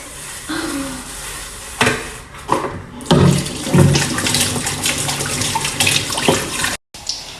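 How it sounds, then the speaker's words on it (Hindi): Tap water runs and splashes in a sink while dishes and greens are washed, with intermittent gushes and clatter, close and fairly loud, cut by a brief silence near the end. "तो फाइनली मैंने बर्तन भी धो लिया, साग भी धो लिया"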